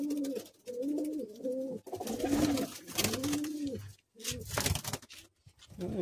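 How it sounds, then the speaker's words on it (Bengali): Breeding pigeons in a loft coo in repeated, rolling phrases close by, several birds overlapping almost continuously with brief pauses and some background rustling. "এখানে সব বিডিং পায়রা আছে দাদার।"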